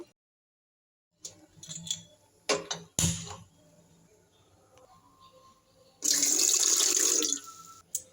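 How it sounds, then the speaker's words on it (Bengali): Water poured into a cooking pot on a kitchen stove, a short loud gushing splash near the end after a few clatters and knocks of the pot, close and without speech. "আমি এই পাতিলটায় জল দিয়ে দিচ্ছি"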